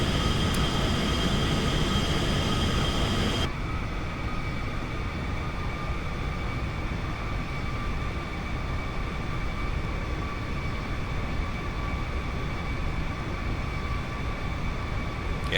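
Steady, loud jet engine drone from a simulated Aerobask Viperjet taxiing on the ground in X-Plane 10, heard alone with no talk.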